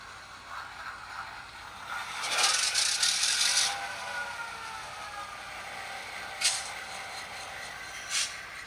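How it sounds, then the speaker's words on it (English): Model train locomotives power on: a burst of rattling and scraping, then a faint electric whine with a couple of sharp clicks. "we flip the master switch here for layout power, and then you hear all the locomotives turn on"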